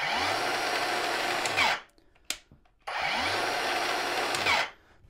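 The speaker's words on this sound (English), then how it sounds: "So this is a 40 volt chainsaw. So just turn it on again, and now you'll see the machine will work perfectly." A 40 volt cordless chainsaw powered from an Ingco battery backpack whirs up to speed twice, each run lasting under two seconds and separated by a brief pause, loud and close.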